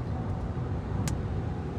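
A 2023 MG Gloster SUV with an 8-speed automatic cruises in sixth gear at around 4000 RPM, giving a steady low cabin rumble of engine and road noise with one brief click partway through.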